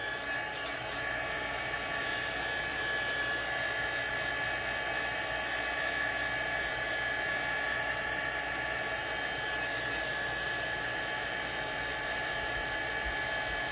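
A hair dryer blows over watercolor paint on a silicone mold, giving a close, constant, even whoosh with no break across the whole stretch.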